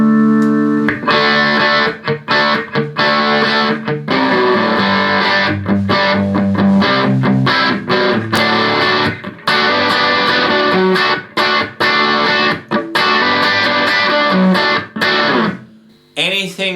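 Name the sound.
harsh drive distortion effect on a sound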